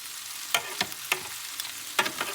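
Pork belly fries until crisp in a pan, with a steady close sizzle broken by several sharp crackles and pops spread unevenly across the clip.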